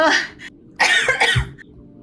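A few close, harsh coughs break out, one burst followed by a louder double cough, during a live stream talk show.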